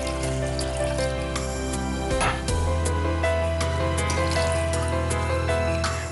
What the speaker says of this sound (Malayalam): ഒരു ചുവട് കട്ടിയുള്ള പാത്രത്തിലേക്ക് ഇപ്പം 1/4 കപ്പ് വെള്ളം ഒഴിക്കുന്നു